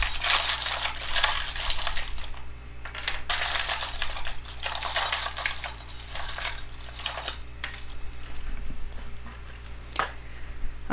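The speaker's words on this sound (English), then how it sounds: "I just shuffle around until I feel like it's time to take out some charms." Small metal charms clink and jingle as they are shuffled around in a box, coming in close, bright bursts separated by short pauses, with no talking.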